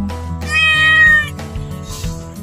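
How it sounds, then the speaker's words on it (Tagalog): A cat meows loudly and close by in a drawn-out, wavering call outside a row house, the sound bending in pitch and then trailing into shorter mews. "itong pusa nga ito"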